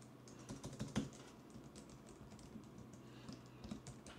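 Quiet, close keystrokes on a computer keyboard come in a quick irregular patter as a username is entered, with no voices.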